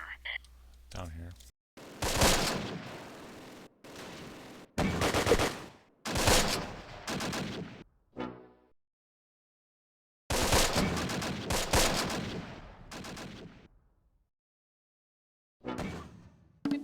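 Gunfire in the WWII video game Close Combat (Wacht am Rhein): irregular bursts of rapid shots and rattling fire separated by abrupt silences, with brief voice callouts mixed in.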